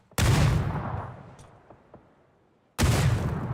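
A grenade blast in a competitive shooter video game erupts as one loud, broad burst, decays over about two seconds, then a second heavy explosion hits near the end.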